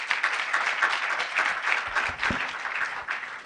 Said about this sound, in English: Please, a round of applause for Kobe Che.